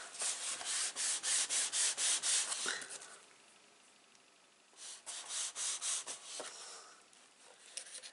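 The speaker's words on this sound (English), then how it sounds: "I'm just going to rub that down." Cardboard is rubbed down by hand for a beginner album craft, giving rhythmic scratchy strokes in two runs of quick back-and-forth passes with a quiet pause between, close and fairly soft.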